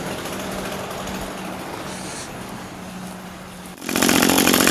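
An Echo string trimmer fitted with a knock-off carburetor idles on a bench, giving a steady, buzzy small-engine drone at close range. Near the end it jumps to a louder, harsher rev.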